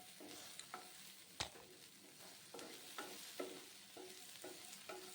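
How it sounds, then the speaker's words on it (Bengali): Steady sizzling of tomatoes and capsicum frying in a hot pan on high flame, broken by repeated scraping stirs and a sharp clatter of a utensil, with no voices. "এবার আমি একে একে ওই টমেটো আর ক্যাপসিকামগুলো ভেজে নেব একদম হাই ফ্লেমে"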